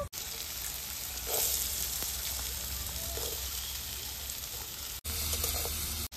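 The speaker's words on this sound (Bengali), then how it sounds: "প্রথমত আলুর টুকরো কোটা দিয়ে দেব" Potato pieces fry in hot mustard oil with dried red chilli, bay leaf and black cumin for a drumstick-flower dish, giving a steady close sizzle that swells briefly, cuts out near the end, then resumes.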